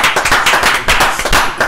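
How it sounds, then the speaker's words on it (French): Hands clap in a quick, steady run of sharp, loud, close claps, about a dozen in under two seconds, during a French talk show. "J'ai envie d'applaudir."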